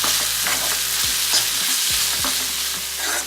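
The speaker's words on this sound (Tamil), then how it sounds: "நல்லா இஞ்சி பூண்டு பேஸ்ட் ராஸ்மணி போடுறதுலாம் நல்லா வதக்கி எடுத்துக்கோங்க." Ginger garlic paste sautéing in a hot pan, a steady close sizzle broken by repeated scrapes and stirs of a spatula, with no voices.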